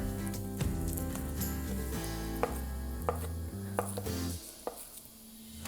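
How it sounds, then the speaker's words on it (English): A knife chops through cream cheese on a cutting board, a series of close, soft thuds and taps at an irregular pace, with light clatter in between and no talking. "Okay, cream cheese, chopped, okay?"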